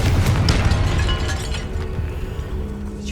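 Confringo blasting spell exploding inside a tomb in Hogwarts Legacy: a loud, deep boom already rolling at the start and slowly fading over three seconds, with scattered crackles and debris.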